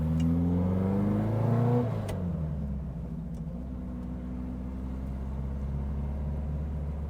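A 1960 Porsche 356 Abarth Tribute, started about a minute earlier and still cold, revs up strongly on a road drive, then settles into a steady, loud engine drone and rumble.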